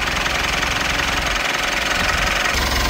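A Fiat Fullback pickup's engine runs steadily during DPF and oil dilution repair work, a loud, even, droning idle with a slight knocking rhythm and no speech over it.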